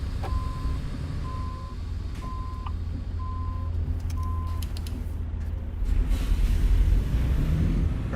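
Steady, evenly spaced reversing beeps from a truck in a driving video game repeat over a constant low engine rumble, with the beeping stopping partway and the engine drone continuing alone.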